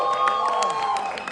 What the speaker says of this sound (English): So how about a big round of applause for Josh and Jflix?